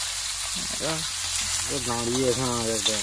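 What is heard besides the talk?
rohu fish frying in a pan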